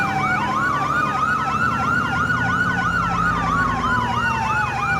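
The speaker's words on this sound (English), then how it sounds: "Now we're going to deactivate one of these sirens or I'm going to lose my mind." Police car sirens wailing in GTA 4 with a Florida Highway Patrol 2015 Charger, two overlapping electronic sirens cycling rapidly and steadily, loud and close, with a low engine rumble underneath and no talking.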